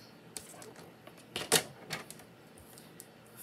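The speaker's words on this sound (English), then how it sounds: "That's the nice thing about this paper trimmer. You can do two." Paper trimmer cutting paper strips for a card, a few scattered clicks and a sharp slicing snap near the middle, close but fairly quiet against a low background hiss.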